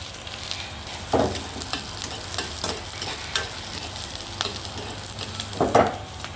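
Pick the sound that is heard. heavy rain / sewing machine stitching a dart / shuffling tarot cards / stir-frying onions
stir-frying onions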